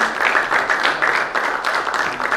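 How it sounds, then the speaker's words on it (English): A crowd at a Celebrity Cricket League event applauds steadily, a dense, continuous wash of many hands clapping at fairly close range with no voices over it. "Please can we have a big round of applause for him"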